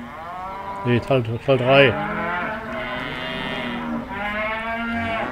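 Cattle in the farming game Professional Farming moo loudly in several close, drawn-out calls near the start, then a long steady low moo carries on while someone speaks briefly.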